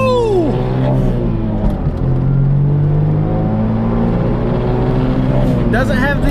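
A small Suzuki Cappuccino kei roadster accelerates hard with a steady, loud engine drone that rises and revs up. Wind and road rumble run under it, and a brief voice is heard near the end.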